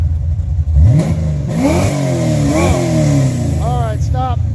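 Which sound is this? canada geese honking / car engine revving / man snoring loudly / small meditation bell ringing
car engine revving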